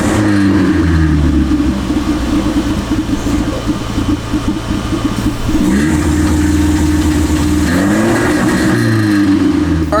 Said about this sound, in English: The car still misses really bad at idle